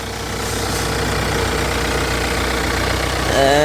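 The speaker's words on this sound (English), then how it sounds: "So here's the engine." A Kia Sportage diesel engine with manual transmission idles steadily up close, a constant low rumble with a slight rattle, ending with a brief higher whine.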